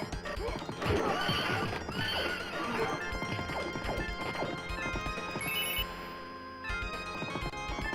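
Inside a video game, a mini horse whinnies over layered game music, with clip-clop hoof sounds and thudding effects early on before the mix thins toward the end.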